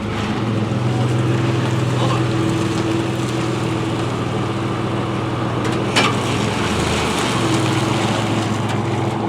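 A 1993 Chevy Blazer 4x4, a $350 project that later overheats, runs on its first drive, giving a steady low engine drone with some wind rush throughout and no talking.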